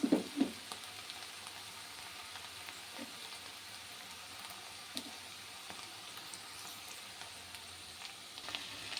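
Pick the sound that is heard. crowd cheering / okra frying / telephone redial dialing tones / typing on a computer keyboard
okra frying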